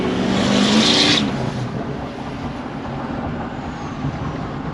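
Ford 6.0L Powerstroke diesel pickup with a faulty exhaust back pressure sensor at wide open throttle, a loud, steady engine roar that rises briefly at the start and then holds a continuous drone.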